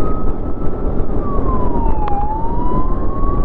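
An ambulance siren wails, sweeping slowly up and down over steady, loud road and engine rumble, sounding close by in traffic in Patna, India.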